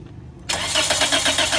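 A Toyota Vios engine cranks and catches in a repair shop after arriving on a tow truck, the starter's brief grind giving way to a loud, steady idle close by.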